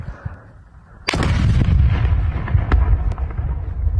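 A single powerful blast from a controlled detonation of explosive ordnance during demining booms out suddenly, followed by a long rumbling roar and scattered crackles that slowly fade.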